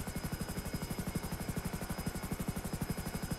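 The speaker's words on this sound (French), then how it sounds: "Je prends un peu d'altitude parce qu'il est quand même sacrément lourd, hein, cet hélicoptère-là." A heavy helicopter lifts off in GTA 5, its rotor beating in a steady, rapid loud chop with a constant engine whine above, no voices.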